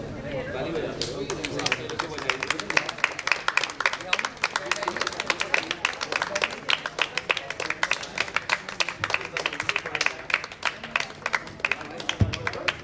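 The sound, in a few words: audience clapping for a national cricket player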